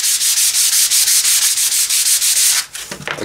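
A wooden bachi drumstick is sanded with 100 grit sandpaper in quick, even back-and-forth rasping strokes, loud and close, which slow and break off near the end.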